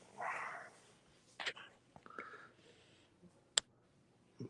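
A puppy named Rambo gives a few soft, short barks and whimpers in a room, mixed with scattered clicks and a sharp tap, faint and intermittent.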